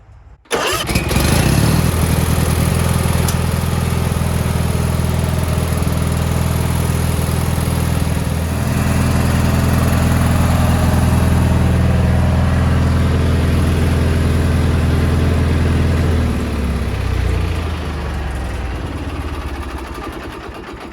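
Gravely Professional riding mower with a Kohler Magnum 18 engine running at high speed with the PTO engaged and blades spinning inside the deck, a loud steady drone that holds for most of the clip, then winds down near the end.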